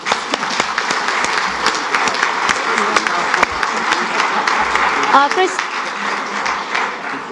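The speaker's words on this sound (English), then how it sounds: "So let's give them a round of applause." Sustained audience applause at an academic conference plenary panel in Sarajevo, a dense steady wash of many hands clapping with faint talk underneath.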